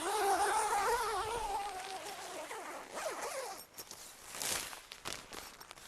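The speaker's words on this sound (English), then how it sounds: "undo the snap at the bottom and unzip the inside zipper" The inside door zipper of a Nunatak Apex hot tent is pulled open in a long close rasping run, then slows into a few shorter tugs and rustles of tent fabric.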